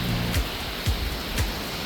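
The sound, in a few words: heavy rain falling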